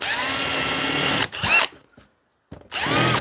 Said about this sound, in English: So basically I'm just running the pilot hole under here